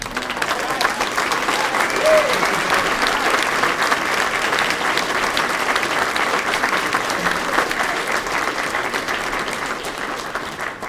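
A crowd at a Roanoke rally claps steadily for a full stretch after a speaker, a dense, even wash of hands that holds at a constant level from start to finish with no talking over it.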